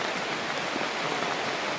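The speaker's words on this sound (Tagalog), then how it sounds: "Hindi pa naman masyadong malakas yung ulan." Light rain falls as a steady, even hiss, with no voices or other clear sounds over it.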